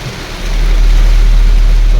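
Heavy rain pours steadily onto Thailand's Route 331 near Phanom Sarakham during a summer storm, a dense loud hiss with low thunder rumbling underneath, close and continuous with no talking.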